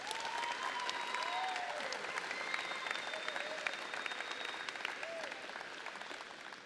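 Sustained applause from a large audience at a high school graduation ceremony, dense and even clapping that holds steady throughout, with a few faint whoops in the crowd.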